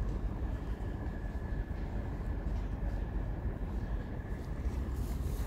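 A train rumbles steadily along the tracks close by at a station platform, a continuous low, rattling roar with no voices over it.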